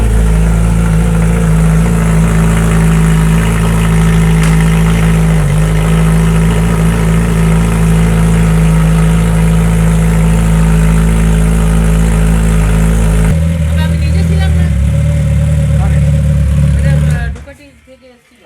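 A Suzuki Hayabusa motorcycle fitted with a Two Brothers exhaust, just serviced at home, idles loud and close with a deep steady rumble for most of the run, then the tone shifts and the engine cuts off near the end.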